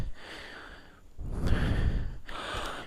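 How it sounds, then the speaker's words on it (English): Heavy breathing close into a microphone outdoors on a hill at night, with two long loud exhales separated by a short pause, like windy puffs right against the mic. "sorry if I'm breathing into the mic"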